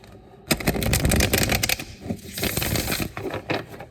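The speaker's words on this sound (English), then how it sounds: "So let's shuffle these cards and see what we have for you here today." Tarot cards being shuffled by hand, a close, crisp run of rapid riffling clicks and flutters lasting a few seconds after a short quiet start.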